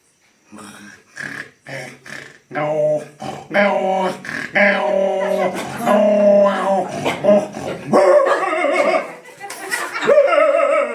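A man vocally imitates dogs fighting, with a string of growls, snarls and barking yelps, close and loud, broken by short pauses.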